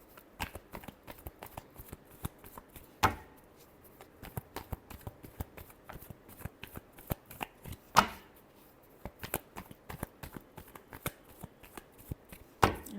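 Tarot cards being shuffled by hand, a run of quick papery riffles and flicks with a few sharper slaps, close and alone with no talking.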